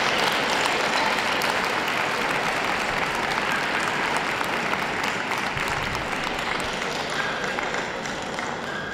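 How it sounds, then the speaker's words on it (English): A crowd at the 2017 Manchester dog show applauds the Miniature Poodle, winner of the utility group. Loud, dense applause runs continuously and evenly for the full stretch, with no talk over it. "Big round of applause."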